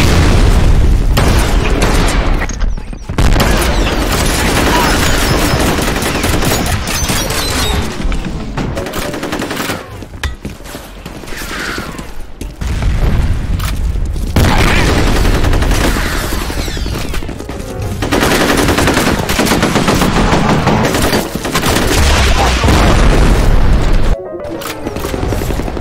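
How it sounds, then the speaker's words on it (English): Game combat in FEAR, capture-the-girl mode: loud, continuous rapid gunfire and machine-gun bursts mixed with heavy booming explosions, with near-constant shooting broken by brief pauses. "Taking fire."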